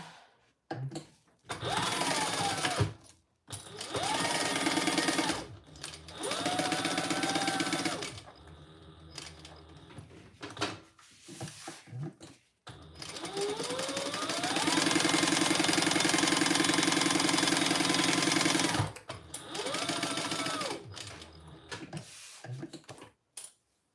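A sewing machine stitches waterproof canvas in several loud, steady runs of mechanical whirring, broken by short pauses and soft handling sounds.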